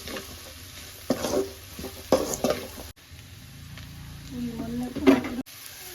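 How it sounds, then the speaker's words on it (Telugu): Indian-style vegetable fried rice stirred in a pan after garam masala and pepper powder go in, with soft scraping and sizzling strokes in short bursts, fairly quiet, and a voice talking underneath. "అలాగే కొద్దిగా పెప్పర్ పౌడర్ కూడా మనం యాడ్ చేసుకోవాలి. బాగా మిక్స్ చేసుకోవాలి."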